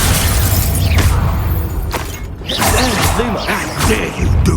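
Expulso blasting spell cast in the video game Hogwarts Legacy: loud blasts and cracking impacts with whooshes and mechanical rattles, over dense, continuous game ambience.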